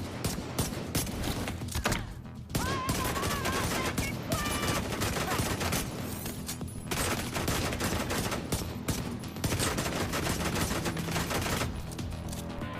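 The Liberty pistol fires in The Division 2 video game, a dense run of sharp, close shots in quick succession with a brief lull, over game effects and a faint voice.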